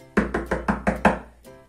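Knocking on a door: six sharp raps in a steady rhythm, close and fairly loud, followed by a single fainter knock after a pause, with no talking.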